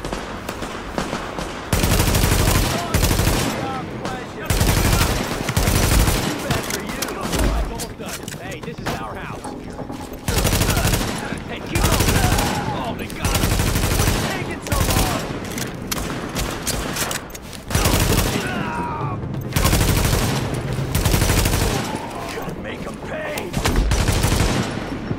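Gunfire in The Division video game as hostiles attack supplies: repeated bursts of automatic rifle fire and single shots in clustered volleys, loud and close, with brief pauses, and spoken game announcements in between.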